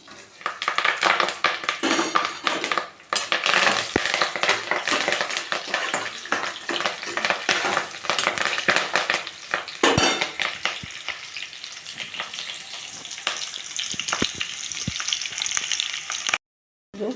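Onion, green chilli and curry leaves crackle and sizzle in hot oil in a kadai, a loud dense frying hiss with stirring scrapes and clinks throughout, briefly thinning near the end before a short gap.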